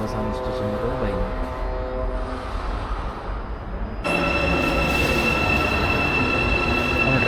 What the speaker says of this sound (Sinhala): ट्रेन එක ආවා.